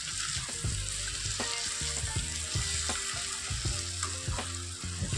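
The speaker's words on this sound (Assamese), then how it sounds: "এতিয়া মই এইখিনি অলপ টাইম ভাজি দিম" Yogurt chicken coated in masala fries in a wok over a low gas flame, giving a constant sizzle while a spoon scrapes and stirs it in a steady rhythm of clacks, close up and with no voices.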